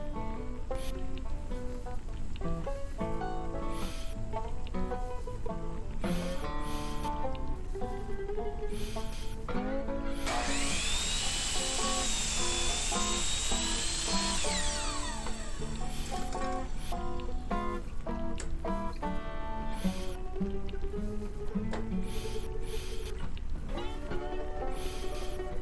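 Power saw cutting through a damaged deck board during a deck repair, a steady rasping, whining cut lasting about five seconds, loud and close, rising out of ongoing background music.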